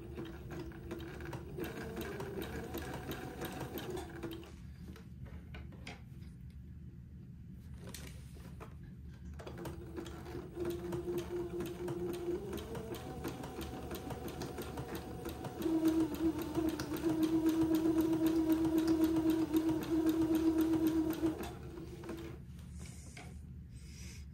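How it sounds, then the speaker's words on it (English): A sewing machine stitches entredos to both ends of a narrow insertion lace panel for a baby's daygown, running in steady bursts with pauses, then a louder, faster stretch toward the end. "So I'm going to sew entredos to both sides or both ends of the panel, sewing it to the narrow insertion lace."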